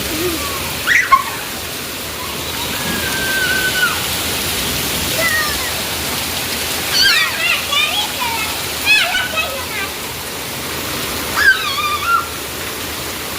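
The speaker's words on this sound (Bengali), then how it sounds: "এই দিকটাতে দেখেন ঝুম বৃষ্টি হইতেছে আর শিল পড়তেছে" Heavy downpour with hail falls steadily in a dense, continuous hiss and patter, with faint voices in the background.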